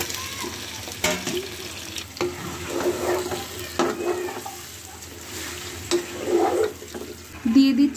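Chicken pieces hitting hot oil with fried onions in a pan, giving a steady close sizzle with scraping stirring strokes through the whole stretch and louder bursts near the end.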